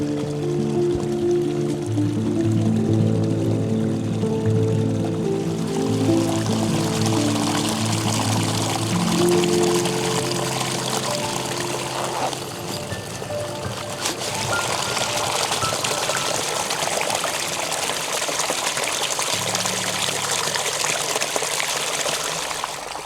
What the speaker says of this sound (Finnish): Hyvä veden täytty paikka, niin otetaan vähän vettä mukaan tästä.